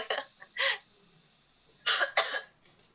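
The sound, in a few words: cough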